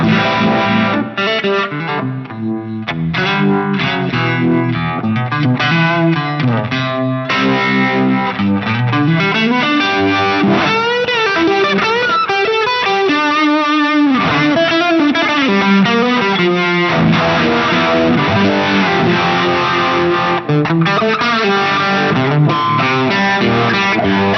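Heavily distorted, fuzzy electric guitar through a Fuzz Face effect on an Axe-FX III preset plays continuous riffs and chords, thick and saturated with a touch of modulation, loud throughout with no talking.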